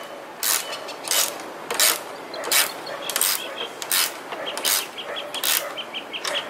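A nylon nut being tightened onto a pole mount gives a series of sharp ratcheting clicks, about a dozen close-up bursts in an irregular rhythm with no talk.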